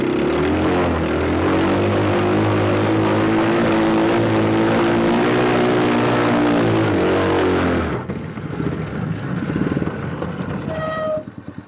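A mini Jeep's small engine strains loud and close while grinding through deep mud, a steady droning roar with shifting pitch that cuts off abruptly near the end, leaving quieter rumbling.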